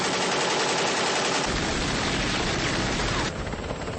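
Continuous machine-gun fire in a war film scene, a dense unbroken rattle of rapid shots loud and close throughout, with no pauses and no speech.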